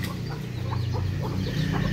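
Cornish bantam chickens cluck softly in a series of short, irregular calls over a steady low hum in a backyard poultry setting, with no talking.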